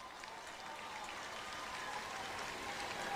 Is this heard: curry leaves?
no